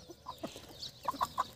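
Desi hens on a pure free-range farm cluck in short, bright bursts while pecking at leftover household food, a few close calls clustered near the end over quiet farmyard background.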